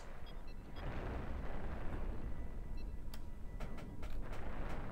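Weapon fire from ships in the space combat game Cosmoteer striking defenses, a continuous low rumbling barrage with scattered sharp crackling impacts, steady and fairly loud throughout.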